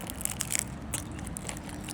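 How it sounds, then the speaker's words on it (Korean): Someone bites into a crisp cinnamon-sugar snack, giving a quick run of close, sharp crunches and crackles over a low background rumble. "바삭바삭 소리 들리시나요?"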